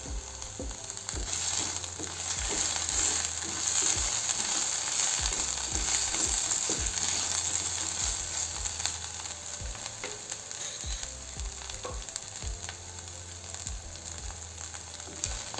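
Curry leaves crackling and sizzling in hot oil, a dense continuous fry with scattered pops and occasional light stirring knocks throughout.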